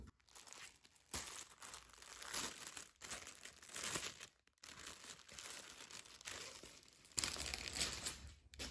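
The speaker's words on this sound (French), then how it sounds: "Alors, on va ouvrir ce paquet-là aussi." A plastic-wrapped package of cross-stitch supplies being opened close up, with bursts of crinkling and tearing plastic separated by short pauses.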